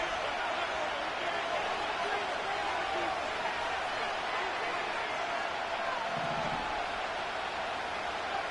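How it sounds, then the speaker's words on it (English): Stadium crowd noise in the Madden football video game as third down approaches, a dense, constant roar of cheering at a distance, steady and unbroken, with a commentator talking over it. "This crowd into it now as we get to third down."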